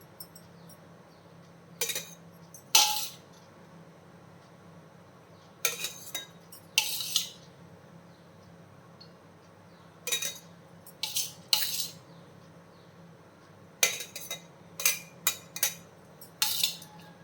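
Metal utensils clinking against a puttu maker while rice flour is spooned in, heard as short bright scraping and tapping bursts in small clusters separated by quiet pauses, close by, with no talk.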